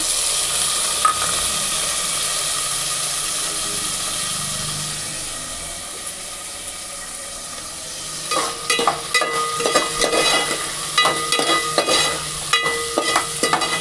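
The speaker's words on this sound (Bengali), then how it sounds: "সবজিটা একটু ভেজে নেব।" Vegetables fry in a pan for khichuri after the dal has been fried, giving a steady sizzle that turns into scraping, clattering stirring strokes toward the end, with no talk over it.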